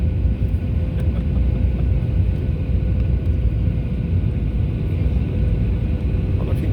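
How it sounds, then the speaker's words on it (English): An airliner makes its landing approach into Denver, Colorado, a steady low cabin rumble and hum held throughout at moderate loudness, with no talking. "coming in for our landing here in Colorado."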